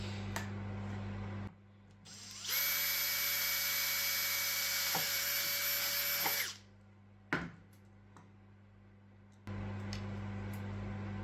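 A power drill whines loudly for about four seconds, starting and stopping abruptly, between stretches of quieter motor hum and a sharp click.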